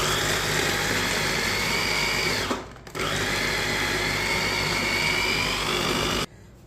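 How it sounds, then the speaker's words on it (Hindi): Mixer grinder whirring steadily as it grinds spinach, a loud continuous motor drone that cuts out briefly partway through, restarts at full power, then stops abruptly near the end. "पालक को ना आधा आधा करके इसे ग्राइंड कर लेते हैं।"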